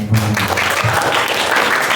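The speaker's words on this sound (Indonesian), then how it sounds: "Tepuk tangan dulu dong, Pak." An audience at a public philosophy discussion and theater showcase claps in a dense, loud burst of applause that carries on steadily for about two seconds, with a brief murmur of a voice near the start.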